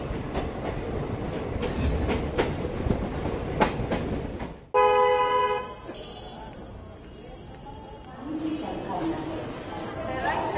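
Rhythmic clatter and rumble from inside a crowded general coach of the Shramjeevi Express while it runs, with a tonal horn-like blast midway and people talking under the steady rail noise.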